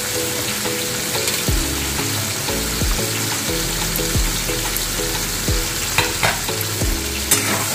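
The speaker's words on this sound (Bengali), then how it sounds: "উচ্ছেটা ভাজতে দিচ্ছি।" Bitter gourd frying in a small amount of oil in a pan, a steady close sizzle with repeated scraping and stirring strokes and occasional clinks, no talking.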